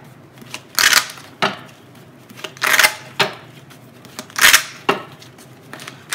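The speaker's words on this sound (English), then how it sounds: "I just have to cut the deck." Tarot cards being cut and shuffled, a run of crisp riffling bursts and soft slaps repeating every second or so, close up and with no talk over them.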